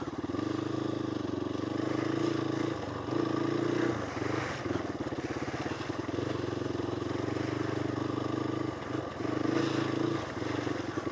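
A GPX off-road motorcycle engine runs at a low, steady rumble, plodding along in second gear, with a faint rattle and slight dips in loudness.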